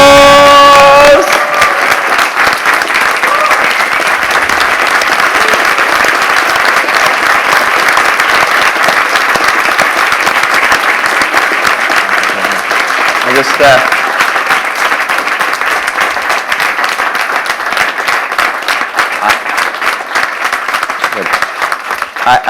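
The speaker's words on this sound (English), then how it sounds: "please give Dr. John DeMartini a huge round of applause" Sustained, loud applause from a large audience welcoming Dr. John DeMartini on stage at a UK seminar, a dense steady wash of clapping lasting over twenty seconds with a few cheers mixed in.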